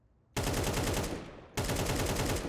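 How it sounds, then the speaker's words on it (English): Automatic rifle spray in Counter-Strike 2, the first ten bullets fired in rapid succession: two loud, sustained bursts of close, dense gunfire broken by a brief pause. "If I just pull down my first 10 bullets, look where they go."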